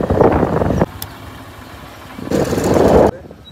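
Motorcycles pass on a city street, two loud close engine bursts separated by a quieter stretch of street noise, each roaring briefly before fading.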